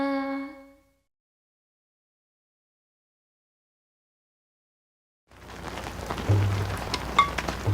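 Rain pours in a Marathi children's song, arriving after a brief sung note and a long silence as a steady, moderately loud patter that fills the last few seconds.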